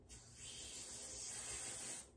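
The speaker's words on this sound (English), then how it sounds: "I'm gonna spray." Hair product sprayed in one steady, close hissing burst lasting about two seconds onto synthetic hair, with no talk over it.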